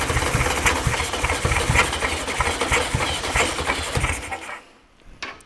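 A VW Beetle 1500 air-cooled engine, not started for 50 years, running with a loud, steady, rough mechanical rumble nearby before cutting out abruptly near the end, leaving a few faint clunks.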